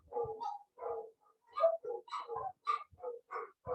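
Several dogs bark repeatedly in a steady, irregular volley of short yaps and woofs, fairly close and clear, with no talk over them.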